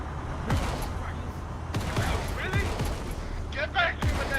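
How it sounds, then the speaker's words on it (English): Gunfire in the military video game Arma 3, several sharp cracking shots spread irregularly through the clip over a low rumbling background, with bursts of voice chatter mixed in. "Why is Belt shooting the ground?"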